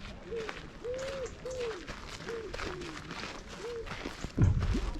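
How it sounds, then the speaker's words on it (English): An owl hoots several times in a loose series outdoors on a Sunday morning at Pointe du Hoc in Normandy, France, with a steady background hum and a louder thump near the end. "French owl going off there."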